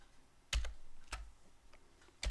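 Keystrokes on a computer keyboard while a Linux swap file is set up, three brief loud clusters of clicks spaced apart with quiet pauses between, close and alone without talk.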